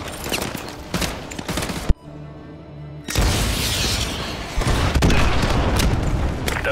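AGM missiles strike in Call of Duty: Modern Warfare 2 Remastered with loud rumbling explosions and crackling gunfire, a brief quieter gap, then heavy booming impacts and sustained battle noise.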